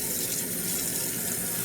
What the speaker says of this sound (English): I'm going to wash this off again.